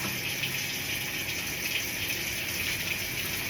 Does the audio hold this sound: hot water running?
yes